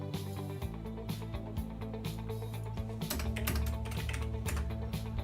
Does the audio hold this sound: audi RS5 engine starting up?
no